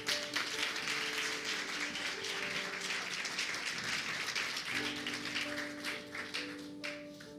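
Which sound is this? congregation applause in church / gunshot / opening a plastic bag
congregation applause in church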